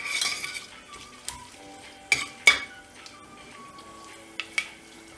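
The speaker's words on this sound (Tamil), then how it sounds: "இப்போது எல்லா மசாலா சாமான் ஆட் பண்ண உடனே இதை நல்லா ஃப்ரை பண்ணி விட்டுடலாம்." Whole spices fry in a pan for Ramadan nombu kanji, giving a soft, steady sizzle broken by a few sharp clinks of a spoon against the pan as they are stirred.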